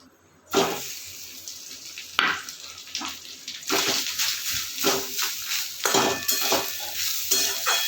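Grated coconut frying in hot ghee in a pan while being stirred: a bright sizzle that starts suddenly after a brief quiet, with scraping stir strokes and bursts of crackle throughout, close and fairly loud, no talk.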